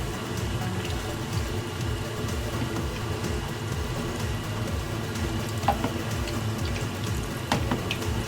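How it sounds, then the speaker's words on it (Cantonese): Cheese French toast deep-frying in hot oil at around 140 to 150 degrees, giving a steady, close, fizzing crackle with occasional sharper pops and no talk. "大概炸佢4分零鐘就可以啦"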